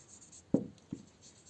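Two brief taps and scratches of a pen or marker on a board or paper, close and quiet, spaced a short moment apart in a lesson on debit and credit accounts.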